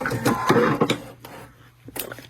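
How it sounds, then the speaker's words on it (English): Pfaff sewing machine stitching long quilt strips along a seam for rail fence blocks, a fast close mechanical whirring that runs steadily and then eases off and fades near the end. "I'm just matching up the edges and sewing my seam"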